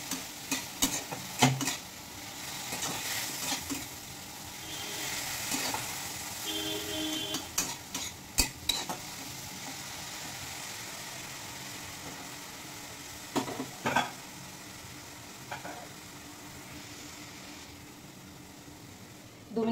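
Green chillies fry in a pan with a soft, steady sizzle underneath, broken by scattered sharp crackles and pops and a few utensil clinks, fairly quiet and with no talking.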